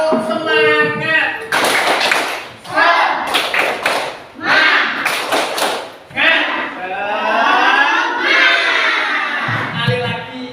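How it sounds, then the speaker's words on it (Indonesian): A fourth-grade classroom of children does a rhythmic spirit clap, with loud bursts of hand claps in a set pattern between stretches of shouted chanting in unison, all close and energetic. "Tepuk semangat."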